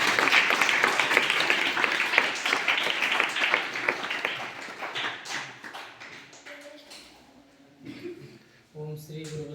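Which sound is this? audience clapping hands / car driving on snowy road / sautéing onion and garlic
audience clapping hands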